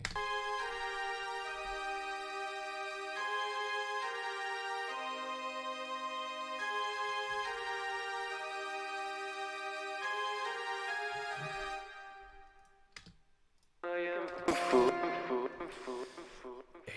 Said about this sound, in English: So that's a horrible overview of the fairground organ